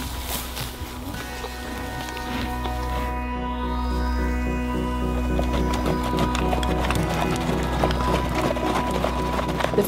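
A loose herd of Icelandic horses moves across open mountain country, their hooves thudding and clip-clopping in a steady, continuous running patter that stays moderately loud throughout, with no talking.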